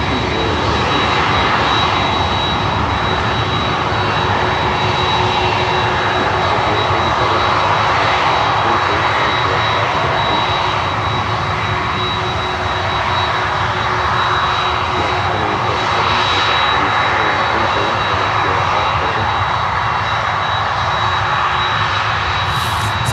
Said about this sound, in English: So we have massive CF6 sound here.